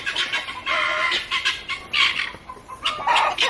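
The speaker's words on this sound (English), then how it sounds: "So the guineas aren't too happy about the new arrival." Several guinea fowl give repeated harsh, grating calls in uneven bursts, loud and fairly close, with no voices.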